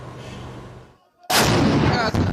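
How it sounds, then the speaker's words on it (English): Gunfire in a residential area of Khartoum, Sudan: a sustained rumble of shots cuts off into a brief near-silence, then a sharp, loud blast of gunfire erupts close by and keeps echoing. "Gunshots ringing out in residential areas"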